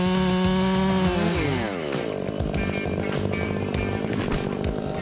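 A chainsaw cuts through a giant cedar tree, its loud engine roaring steadily and then dropping in pitch as the bar bites into the wood, with a continuous rough drone throughout.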